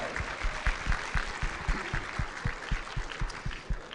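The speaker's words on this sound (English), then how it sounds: "I think you all need to give yourselves a round of applause one more time" Employees at a city employee excellence awards ceremony clap for themselves, a moderate spread of hand claps in a steady patter across the room, fairly distant and even throughout.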